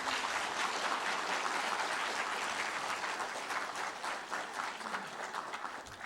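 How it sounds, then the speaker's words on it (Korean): Audience applause at a university presidential inauguration ceremony, a dense, even clapping from a large crowd lasting throughout, moderately distant and steady with no talk over it. "참석해 주신 네 분께서도 큰 박수로 축하해 주시기 바랍니다"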